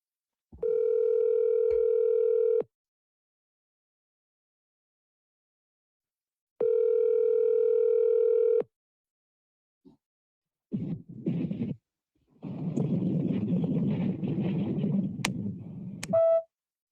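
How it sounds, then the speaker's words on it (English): A phone call with two long steady ringback tones separated by silence, then scraping and rustling handling noise near the phone and a short beep at the end, with no talk. "Let me call Rain real quick"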